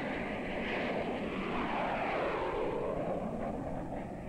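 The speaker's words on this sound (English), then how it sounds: "many of them with powerful jet propulsion engines that need no propellers" Commercial jet airliner engines roar in a steady, broad rumbling wash that swells gently and holds for several seconds, with no voices over it.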